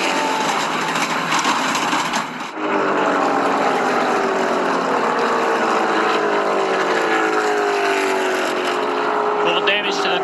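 NASCAR Cup Series stock cars roar around Daytona in a loud, continuous engine drone whose pitch slides downward as they pass, with a brief dip early on and commentary running underneath.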